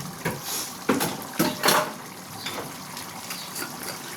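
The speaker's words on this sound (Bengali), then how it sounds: "আমি জল দিয়ে দিচ্ছি।" Water is poured into chicken keema cooking in a pan: a close, gushing pour with several splashy bursts, then a softer trickle as the stream settles.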